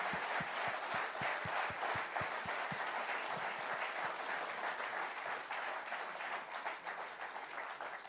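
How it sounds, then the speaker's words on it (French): A crowd gives sustained applause at a cycling team presentation, dense steady clapping filling the room throughout, with a few sharp individual claps standing out early on. "J'allais dire, on pourrait vous faire une standing ovation."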